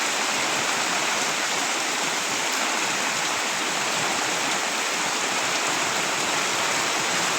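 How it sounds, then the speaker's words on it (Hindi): Heavy rain pours down in a steady, dense hiss that stays loud and unbroken throughout, with no voices over it. "देखिए कितना पानी बरस रहा है"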